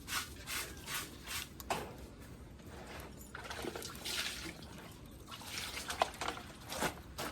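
Water running from a broken tap, a faint uneven trickle and splash with soft pulsing surges, heard close in a quiet indoor space.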